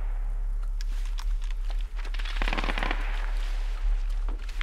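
Artillery fire in a World War II combat video game set during Operation Neptune: dense crackling bursts and rapid popping blasts that swell in the middle, loud and continuous over a low rumble.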